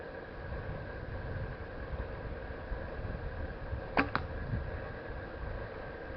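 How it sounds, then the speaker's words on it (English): A Fleetwood Timber Ridge bow string twangs as an arrow is shot, a brief pair of sharp snaps standing out once against steady outdoor background hum. "Definitely a twang in this bow."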